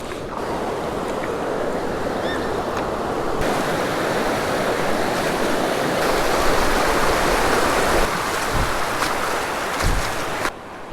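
Steady rushing water fills the clip, a broad continuous wash of a river current streaming over shallow shoals, with a few faint knocks near the end.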